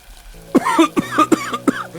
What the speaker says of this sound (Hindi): वरना मैं तो खांस खांस के ही मर जाऊंगा